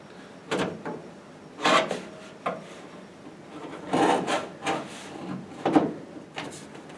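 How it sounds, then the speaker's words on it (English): Long screwdriver prying and scraping at a glued dash pad near the vent opening of a 1968 Mustang, with a series of irregular rasping scrapes and creaks, some short and some sustained, at close range. "I'm going to take a long screwdriver and push it underneath in the vent opening here to see if I can break loose."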